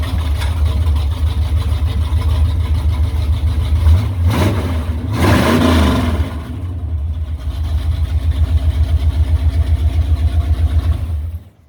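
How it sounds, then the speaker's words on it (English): A 1955 Chevrolet 210 two-door post car with its engine running close by, a steady loud idle with a brief rise in revs midway, then settling back into an even rhythmic idle. "And the car runs."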